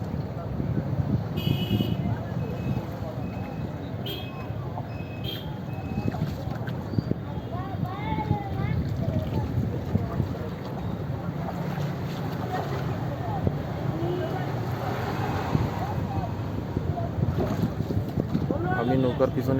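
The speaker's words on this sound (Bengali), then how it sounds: "আমি নৌকার পিছনে বসে আছি।" A boat ferrying passengers across a river between Jhalpara and Kalighat ghats in Sylhet, with a steady rumble of water and wind buffeting the microphone throughout and faint voices now and then.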